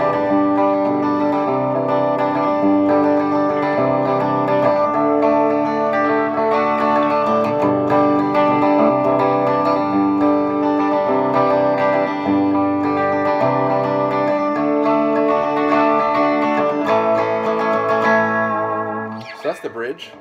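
An Epiphone Casino electric guitar through its Lindy Fralin P90 bridge pickup into a Vox AC15C1 amp with no pedals, played loud and steady with chords and notes ringing under light amp overdrive, ending in a brief quieter trail.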